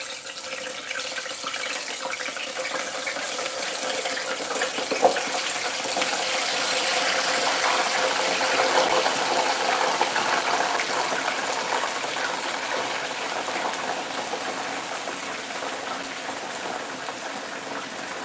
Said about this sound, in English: Let's hear that sizzle.